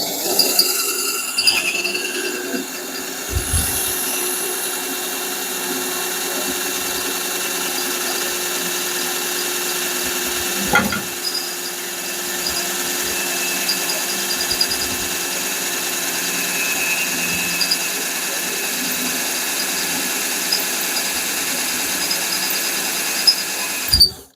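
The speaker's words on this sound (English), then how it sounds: "now we'll drill from the top" A power drill whines steadily and loudly throughout, drilling metal for a coil-over shock mount on a 1975 Plymouth, with brief clunks and dips as it works through material.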